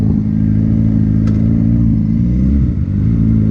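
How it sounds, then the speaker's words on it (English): A Suzuki GSX-R 600 motorcycle with a slipping slipper clutch revs hard during a wheelie attempt, a loud steady engine drone close by with a brief dip near the end, no talking. "Let's see if we can still pop a wheelie."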